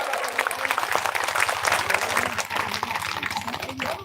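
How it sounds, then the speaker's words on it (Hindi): A crowd at a live religious saints' gathering claps to welcome donors, brisk dense applause at close range that swells and fades slightly, with some voices underneath. "ताली बजा के सबको जोरदार स्वागत"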